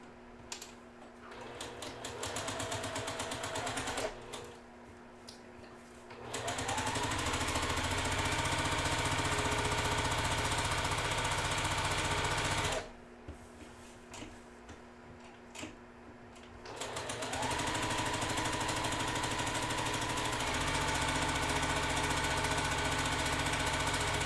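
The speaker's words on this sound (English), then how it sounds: "we are going to sew the other side." Sewing machine stitching a quilt block seam, long bursts of steady loud motor hum and rapid needle chatter, stopping twice for a few seconds of quieter handling clicks before running again.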